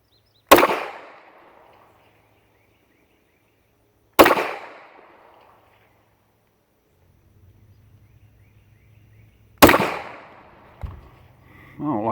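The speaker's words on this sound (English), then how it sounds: "newer model, the TP9 SF, on the left-hand target. Shoot us about 6 of them." Three loud, sharp gunshots from a Canik TP9 SF polymer pistol ring out several seconds apart at close range, each with a short echoing tail, followed by faint handling noise.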